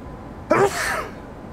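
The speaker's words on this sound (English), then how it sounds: "Had to sneeze." One loud, abrupt human sneeze bursts out close to the microphone, followed by a brief breathy trail into quiet.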